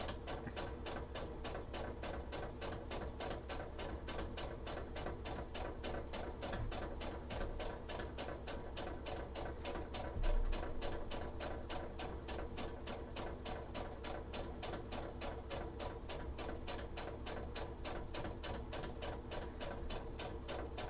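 A sewing machine top stitching cosplay trench-coat sleeves, running continuously in a fast, steady mechanical rattle throughout.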